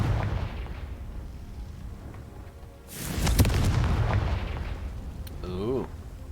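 A Confringo fire spell blasts in the Hogwarts Legacy video game, a deep rumbling boom swelling midway through and lingering, over steady game background noise.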